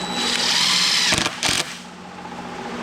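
A screw gun drives drywall screws into plywood with a loud, close whine that winds down, followed by two short bursts as the screws seat, then quiet.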